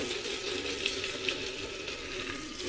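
Mutton pieces going into hot oil in a clay handi for Bihari-style Champaran mutton give a steady, close frying sizzle with soft stirring scrapes and no voices.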